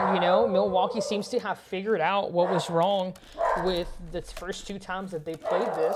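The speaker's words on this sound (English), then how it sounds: "And that is my dog in the background." A small dog yips and barks in the background of a room, several short sharp barks scattered under someone talking steadily over them.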